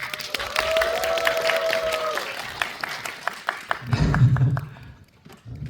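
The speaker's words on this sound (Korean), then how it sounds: "큰 박수 한번 부탁드리겠습니다" Audience applause at a film screening talk with guest actors in a cinema auditorium, clapping taps running under a speaking voice for the first seconds, then a swell of crowd noise with some cheering before it trails off.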